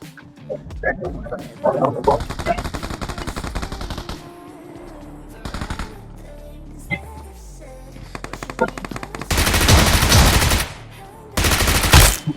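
Gunfire in BGMI PUBG Mobile rings out in several sharp bursts of rapid shots, including sustained loud volleys near the end, mixed with game effects and brief quieter gaps.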